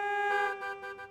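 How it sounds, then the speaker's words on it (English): Car horns sound in Bhubaneswar city traffic: one sustained honk followed by a few shorter toots, moderately distant with no voices. "the faint honk of traffic,"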